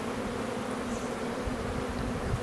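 Honey bees swarm around an open, brood-filled hive, a dense, steady buzz that hangs close and continuous throughout, with no talk over it.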